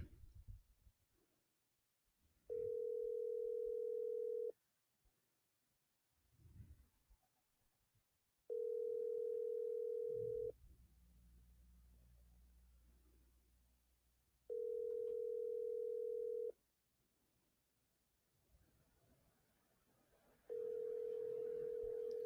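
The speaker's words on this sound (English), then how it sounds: "I'm just going to go ahead and give a call over there" Unanswered outgoing call to the Riviera Beach Police Department: a telephone ringback tone sounds four times as long, steady electronic tones at regular intervals, with quiet line noise and faint rustling between rings.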